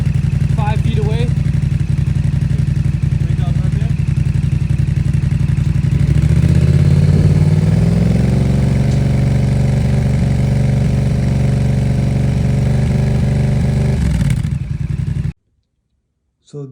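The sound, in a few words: Yamaha R7 motorcycle with M4 exhaust revving and idling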